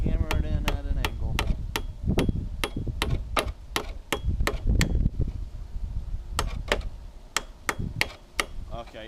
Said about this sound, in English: Start hammering in at an angle.